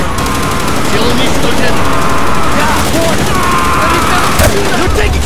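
Sustained automatic gunfire and bursts from the Call of Duty: Black Ops campaign, loud and continuous throughout with dense rapid shots, mixed with battle noise and voices shouting over it.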